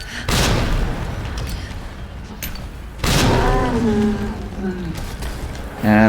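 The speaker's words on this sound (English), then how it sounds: "So I'm going to throw a grenade." Grenade blasts in the video game Resident Evil 2 Remake, two heavy booming explosions a few seconds apart, each followed by rumbling decay, with a voice talking briefly in between.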